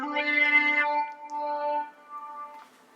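Talkbox voiced through tubing in the mouth, driven by a USB keyboard and VST instrument, giving sustained vowel-shaped synth tones, fairly soft and close, fading out over a few seconds.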